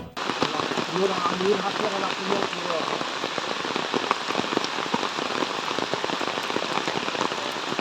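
Heavy monsoon rain pours steadily onto surfaces with a dense patter in Kodagu, Karnataka, and a voice is briefly heard near the start.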